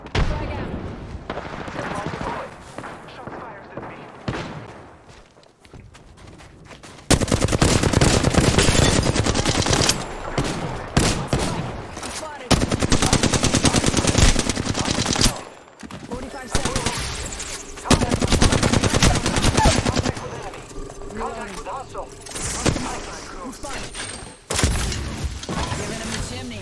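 Sustained automatic gunfire and explosions from an Apex Legends match featuring Bangalore, loud and dense bursts with brief pauses, mixed with in-game character voice callouts.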